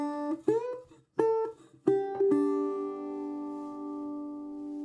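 A guitar note rings on the open second string, played alone a few times with short, choked attacks before one last note sustains and slowly fades, sounding flat and dead.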